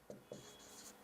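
Writing on a board during a math lesson on permutations: two short, faint scratchy strokes in an otherwise quiet room.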